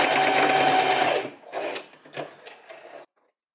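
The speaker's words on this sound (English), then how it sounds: "we're just gonna go over to the sewing machine and just sew over it a couple of times to make sure it's really secure" Close, loud whirring of a sewing machine stitching back and forth over elastic on a linen dress, then breaking into a few short stuttering bursts before stopping.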